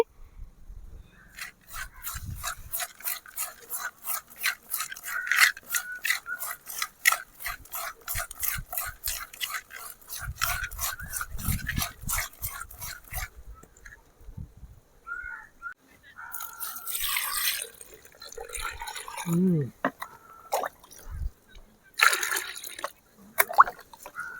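Small freshly caught fish are rubbed and scrubbed by hand in water, a fast regular run of wet scraping strokes giving way to splashing, rinsing and scattered handling noises at close range, with no talk.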